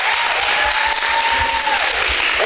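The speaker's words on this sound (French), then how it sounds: "Vous pouvez vous applaudir quand même là." Audience applause fills the room, a steady dense clapping from a crowd at a live event, continuous and fairly loud throughout with a faint tonal whine running beneath.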